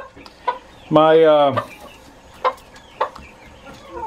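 Chickens and two roosters in a backyard coop at evening feeding time: one loud drawn-out squawk stands out, with scattered short clucks around it and someone speaking briefly nearby.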